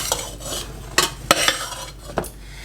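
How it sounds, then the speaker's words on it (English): Cooked hamburger is stirred into pasta sauce in a pot, with a spoon scraping and clacking against the pan in several sharp knocks over a thick, wet mixing sound. Faint sizzle underneath, no talking. "we're going to go ahead and add in our cooked hamburger. Let's give it a nice mix."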